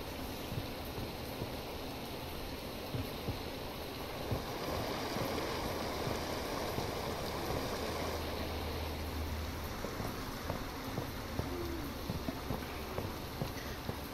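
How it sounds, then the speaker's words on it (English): Rushing waterfall in the Bigfoot video game, a broad constant roar of falling water heard steadily and fairly close, with a few faint knocks over it and no talk. "Yeah, there's a waterfall."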